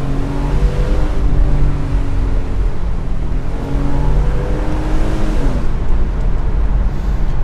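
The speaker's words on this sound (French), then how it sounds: "on reconnaît Flat 6. Et surtout le rugissement de cette voiture" A Porsche Boxster S 986 with a flat-six engine revs and drones loudly and continuously close by, its pitch rising and falling in steady sweeps with no talk over it.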